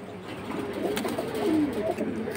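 Young pigeons being released into a cage give soft, low coos close by, repeated throughout a short, quiet moment.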